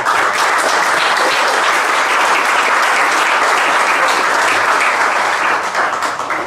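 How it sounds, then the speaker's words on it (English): Loud, sustained applause fills a golf club's prize presentation night as the crowd honours the Pro Shop staff, dense clapping from many hands close by that holds steady throughout with little letup. "I think they deserve a round of applause."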